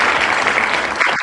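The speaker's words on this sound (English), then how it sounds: "That was the wheel cheering and stuff." Cheering sound effect played by a prize wheel at a game-show-style drawing, a dense burst of crowd applause and cheers filling the whole moment at full volume, ending abruptly.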